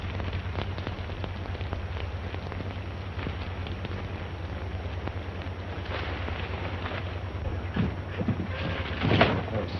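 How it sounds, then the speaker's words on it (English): Steady rain falls in a dense, even hiss that continues unbroken for the whole stretch, with a few slightly louder spatters near the end. "Stop raining."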